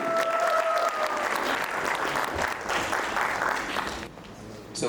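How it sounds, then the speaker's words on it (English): Sustained applause from a seminar audience at an AI business school event in Nepal welcoming a guest speaker, dense steady clapping filling the room for about four seconds before thinning out, with a brief whistle-like tone early on. "Let's give a big round of applause, ladies and gentlemen."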